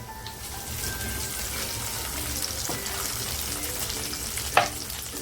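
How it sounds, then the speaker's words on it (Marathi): Vegetables frying in a pan as green beans go in, a steady close hiss of oil with a brief clatter of stirring near the end, fairly quiet and without talk. "ज्या भाज्या घेतल्यात ना त्यात सुद्धा थोड्याशा फ्राय करून घेऊया अगोदर फरसबी टाकते"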